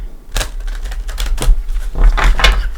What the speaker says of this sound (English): Everything is pre-shuffled, but I'm going to give it just a shuffle or two